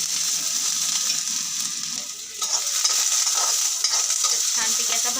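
Garlic, ginger and coconut roasting in a little oil for a rajma curry, a continuous close hiss of frying with scraping stir strokes throughout, no talking.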